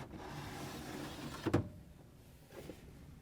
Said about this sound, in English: To get the bucket out, we're just going to lift up on it and then pull it all the way out.